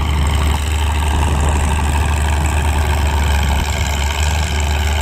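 An antique Oliver tractor engine idles at a community tractor pull, a loud steady low chugging rumble that carries on without a break, with crowd and event noise faintly behind it.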